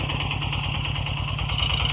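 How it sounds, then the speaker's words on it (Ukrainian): A walk-behind motor tractor engine chugs steadily while tilling soil uphill in low gear, a close, loud, rapid rhythmic putter with no talk. "Фрезерую другою пониженою"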